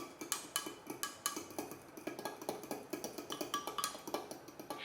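Quick, light scraping and clinking of a utensil against a bowl while mixing couscous with boiling water, repeated in a brisk irregular rhythm, close and fairly quiet.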